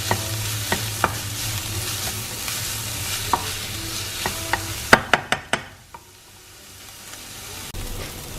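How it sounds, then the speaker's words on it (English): Onions and garlic fry in a pan for tomato soup, a close steady sizzle with periodic spoon scrapes, then a quick run of clacks before the sizzle drops away into near quiet. "here I'm just cooking the onions and garlic"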